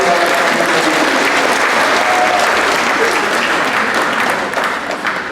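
A church congregation at a Batak and Manggarai wedding mass claps loudly and steadily for the choir conductor, a dense, sustained round of applause that eases slightly toward the end.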